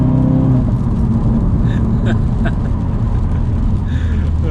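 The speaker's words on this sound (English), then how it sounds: "God, the gear shifts is so brutal." Inside a modified 400bhp Ford Focus RS, the engine drones loudly and steadily under acceleration, with people talking over the cabin noise.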